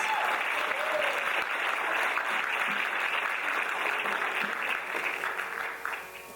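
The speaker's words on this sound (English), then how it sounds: "A big round of applause for Mithra for her beautiful performance." Sustained applause from an audience after a Bharatanatyam arangetram dance performance, a broad wash of many hands clapping at steady strength, easing off slightly near the end.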